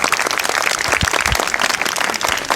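A subdued crowd applauds with thin, scattered clapping that stays steady and fairly quiet through the whole stretch, with no voices over it.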